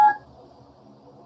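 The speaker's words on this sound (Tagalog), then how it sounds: "Tawagan natin si Belian, yung mga suking" Telephone keypad tones ring out in a short, loud burst at the start, then fade to a quiet murmur of background noise, heard during a Filipino broadcast as a call is placed.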